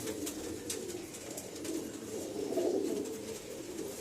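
Pigeons cooing softly in a low, rolling murmur, several birds overlapping continuously at moderate distance.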